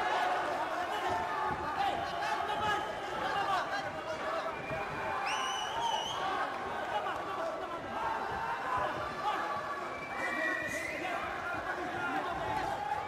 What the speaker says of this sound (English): plenty of noise coming in from the sidelines, lots of encouragement